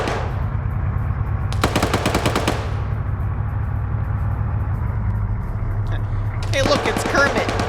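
Two loud bursts of rapid automatic gunfire from a .50-calibre machine gun in an online PvP shooter match, heard over a low vehicle engine rumble, with commentators talking throughout.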